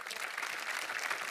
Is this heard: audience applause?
yes